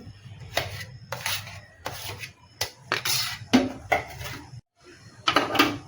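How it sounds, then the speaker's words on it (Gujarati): A spoon mixes spiced potato masala in a bowl, making rhythmic scraping and rubbing strokes, about seven close bursts separated by short pauses. "મસાલાને ચમચા વડે મિક્સ કરી લેવાનો છે।"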